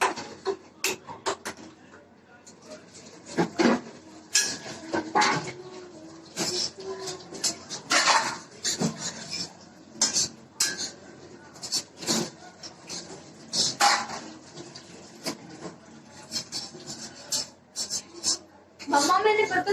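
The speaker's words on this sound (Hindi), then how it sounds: "फिर आप भी ना थोड़ा बर्तन साफ कर दो" Dishes, pots and utensils being washed by hand at home, with scattered clinks, scrapes and rubbing knocks in irregular bursts, some close and fairly loud.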